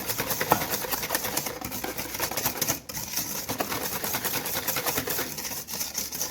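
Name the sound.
mixer whisking eggs into creamed butter and sugar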